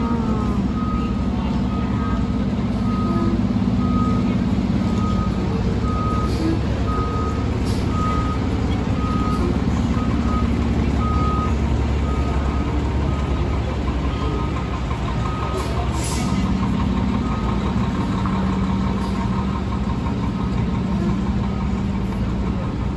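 Fire truck reversing beeps repeat in a steady series over the constant loud rumble of its idling diesel engine, heard close on a New York City street with faint talk in the background.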